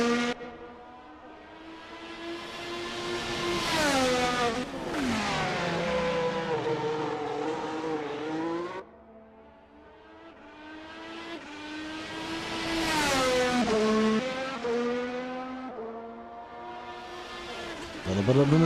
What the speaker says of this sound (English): Cody Lawrence on the C5, running about 3/10 quicker already on this lap, and gaining through every corner.